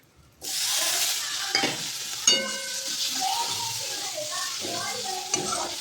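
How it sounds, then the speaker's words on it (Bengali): Cumin powder, slit hot green chillies and turmeric frying in a pan, a steady loud sizzle starting abruptly and holding throughout, with scrapes and clinks of a spatula stirring and a faint voice in the background. "ছুটি একটু জিরে গুঁড়ো দিলাম, কয়েকটা লঙ্কা স্লিট করে দিলাম, লঙ্কাটা ভীষণ ঝাল। আর হলুদ দিলাম"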